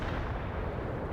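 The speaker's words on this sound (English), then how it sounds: "Artillery strike on the way." Artillery barrage in World in Conflict, a steady loud rumble of distant shelling filling the whole short stretch without any talk.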